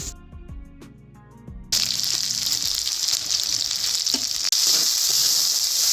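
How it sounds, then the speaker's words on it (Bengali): Spice paste being sautéed in a pan, with a little water and turmeric, breaks into a loud, steady hiss of sizzling after a brief clatter of stirring, and the frying noise continues dense and close. "দিয়ে মশলাটাকে একটু কষাবো।"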